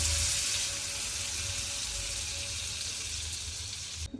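A veg cheese sandwich frying in butter over a low flame gives off a steady, soft sizzle that holds fairly even throughout and stands alone without talk.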